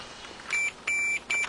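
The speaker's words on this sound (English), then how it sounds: "We're going to press the DSE button on my fluke. It beeps." Three sharp electronic beeps from a Fluke multimeter continuity test, short-long-short, clean steady tones with brief silences between them.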